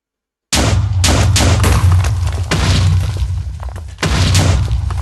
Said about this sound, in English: causing an explosion